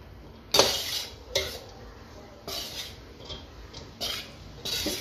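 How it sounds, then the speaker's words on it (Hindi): A spatula stirs tawa pulao rice with Schezwan sauce and pav bhaji masala in a pan, giving irregular metallic clinks and scrapes at close range, with no talk. "इसका हिलाने का जो प्रोसेस है वो आपको अच्छे से करना है, ताकि शेजवान सॉस जो है वो सब में मिक्स हो जाए"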